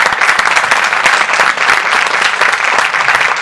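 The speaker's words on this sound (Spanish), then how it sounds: "Nuevamente un aplauso para Temoris Greco." Audience at a book presentation claps in a sustained, lively burst of applause, close and loud with crisp individual hand claps and no talking.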